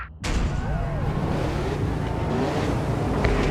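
A race car speeding down a straight in the racing game GRID 2, with a loud, continuous engine roar and road rush that begins abruptly after a short gap and stays steady, with no voices.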